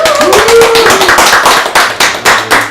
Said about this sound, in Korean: 박수로 한번 환영하겠습니다